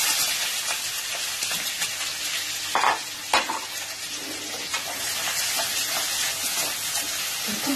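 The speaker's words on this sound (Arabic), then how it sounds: "عندنا المقله حاميه فيها الزيت، نحطو فيها البصله ديالنا" Onion frying in hot oil in a pan, a steady close sizzle throughout with a few brief louder stirring scrapes partway through, no talking.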